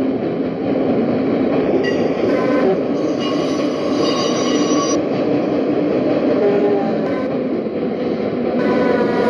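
Fairview Transit Line H train at a station platform: continuous loud rumble of the railcars with high metallic wheel squeal rising and falling throughout, no voices audible.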